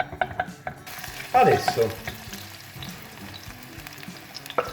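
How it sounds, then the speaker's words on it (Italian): Chopped onion sizzles in extra virgin olive oil in a pan, a steady crackle with a short louder burst as it is stirred, and one brief spoken word near the start. "aggiungiamo la cipolla, la facciamo rosolare per un minuto"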